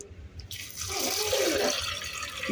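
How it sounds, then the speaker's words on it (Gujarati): Water runs from a tap into a container, starting softly then swelling into a steady, full gush that continues to the end, with no talk over it. "આપણે પાણી ભરવાનું."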